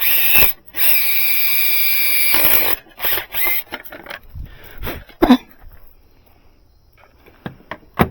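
Power drill driving screws into a flat panel outdoors in the woods during fiber splicing work, heard as two sustained whirring runs in the first three seconds, followed by scattered handling clatter and footsteps.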